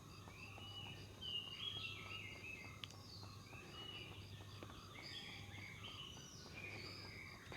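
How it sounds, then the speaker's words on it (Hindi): Outdoors in a quiet natural setting, small birds chirp and tweet in short scattered calls, faint and somewhat distant over a low steady background hum, with no one talking. "मैं उम्मीद करती हूँ माइक के थ्रू आपको भी चिड़ियों की आवाज़ सुनाई दे रही होगी।"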